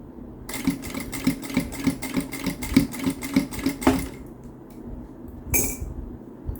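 A sewing machine stitches a seam on a small zippered pouch, its needle thumping in a fast, even rhythm for several seconds before stopping, followed by a brief clink and a short burst of noise.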